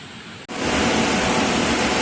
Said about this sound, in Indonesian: hujannya sangat deras banget